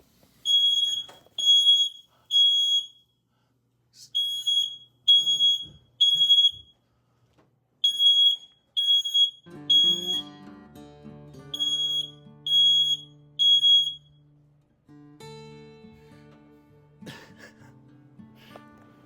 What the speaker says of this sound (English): Of course, the fire alarm goes off.